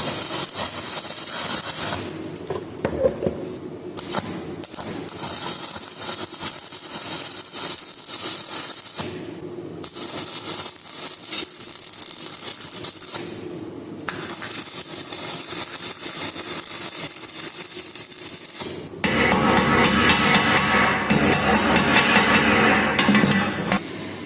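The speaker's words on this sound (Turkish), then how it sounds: "Ve punta punta kaynatma işlemini gerçekleştiriyorum" Stick electrode tack welding on a steel profile with a 2.5 mm electrode at 80 A, a steady loud crackling buzz running in several bursts with short breaks, growing harsher and louder near the end, with no talking.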